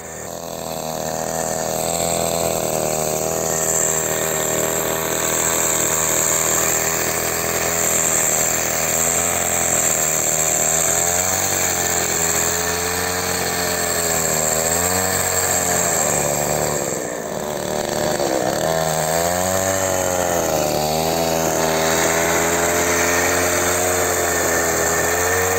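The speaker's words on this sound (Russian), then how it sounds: "Самодельный окучник с приводом от бензопилы «Бригадир» с двухступенчатым понижением оборотов" A homemade hiller cultivator powered by a Brigadir chainsaw engine with a two-stage speed reduction runs continuously with a loud, steady two-stroke drone, its pitch dipping and rising several times as the load changes.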